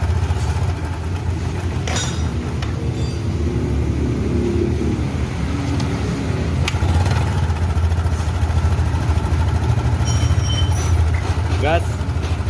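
A Yamaha Mio Sporty scooter engine runs with a rough, ticking CVT, a steady low idle rumble throughout with faint irregular ticks, while a person talks over it.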